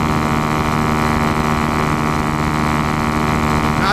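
A motor chugging along steadily below full throttle, a constant droning hum with no change in pace, heard alone and up close.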